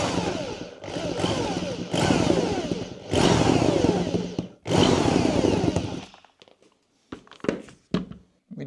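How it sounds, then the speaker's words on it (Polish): A power drill with a large bit boring out a leather eyelet, whining in several long bursts that stop abruptly, followed by short scattered clicks and handling noises. "Dość spore wiertło, tak żebyśmy mogli ściąć ten wywinięty kołnierz."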